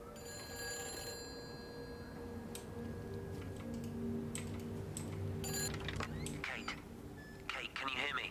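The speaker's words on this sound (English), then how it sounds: "A ringing phone." A telephone rings inside a quarantined building in the Everybody's Gone to the Rapture video game, its repeated bell tones sounding amid ambient hum, ticks and clicks of the game world, with no one talking.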